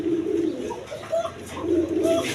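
Pigeons, a pair sold with two eggs, coo in a string of soft low calls that repeat in uneven bursts close by, with no talk over them.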